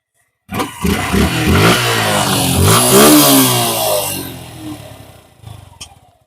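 An EFI motorcycle engine fires up and revs strongly, the note climbing and falling through a few loud throttle blips before settling toward idle, close and clear with no talk.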